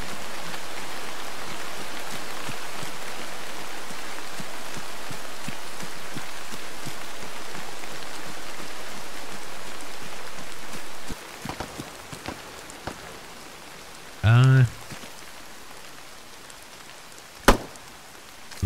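Steady, loud rain hisses across the ground in the Arma 3 game world for about eleven seconds, then cuts off, leaving a quiet scene with scattered small sounds and a brief sharp noise near the end.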